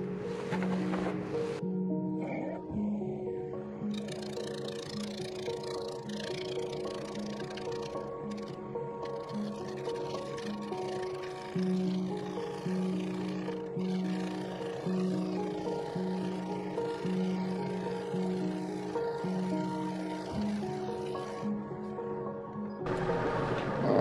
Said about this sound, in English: So I want to get my gouge way around here and cut with just the tip.